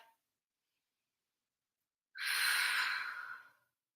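A deep exhaled breath during a yoga session, a single long airy sigh of about a second and a half following a silent pause, close and clear with no speech.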